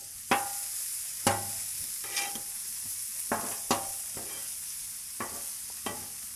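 Steak and broccoli sizzle in garlic butter on a Blackstone griddle, a steady hot crackle broken by about eight sharp spatula taps and scrapes.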